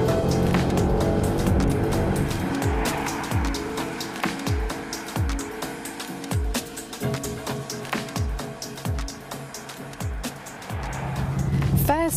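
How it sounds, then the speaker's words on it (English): A Bentley Continental GT coupe's W12 engine runs on the road. The tone rises and falls through repeated upshifts, close and fairly loud, then swells again at the end. "We want to hear the W12 engine in action."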